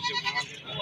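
Goats bleat among the crowd at a livestock market, with Beetal goats for sale at the Dina Bakra Mandi in Jhelum; short overlapping cries sit over busy market chatter and background voices.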